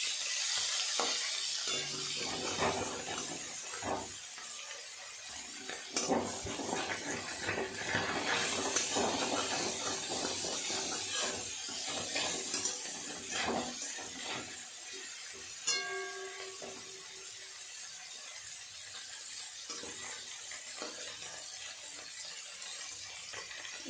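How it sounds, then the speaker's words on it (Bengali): Small chuno fish sizzle and crackle steadily in a pan, with intermittent scraping and stirring as they are gently turned, plus a brief clink midway; no one talks. "অল্প অল্প করে দিয়ে ভেজে নেব। মাছগুলো উল্টে দেবো।"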